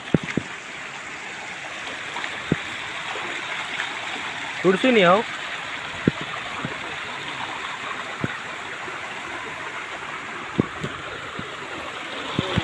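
Flowing water of a swollen rural stream rushes in a continuous, even wash, with a few sharp clicks and a short burst of speech partway through.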